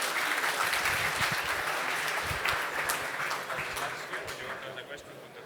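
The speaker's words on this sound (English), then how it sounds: "Big round of applause once again, please." Loud, dense audience applause at a technology talk on multi-armed bandit algorithms, sustained across the whole stretch and tapering slightly toward the end.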